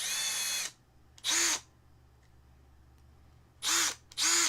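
A cordless drill spins in four short high-pitched whirring bursts, each under a second long, separated by quiet gaps, the motor close and loud.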